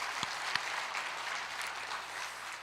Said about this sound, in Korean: 한 박수로 하나님께 감사의 영광을 드립시다.